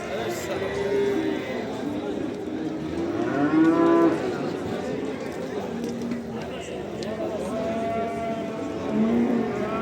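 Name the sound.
calves mooing at a livestock market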